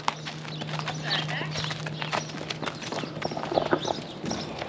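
Horses are let into a field at a stable, their hooves clip-clopping in a loose, uneven patter on firm ground nearby while people talk over them and a low steady hum runs underneath.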